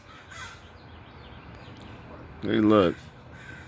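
Crows in a bush fighting over bread, one loud harsh caw rising above a faint background of rustling and distant calls, with a person speaking briefly.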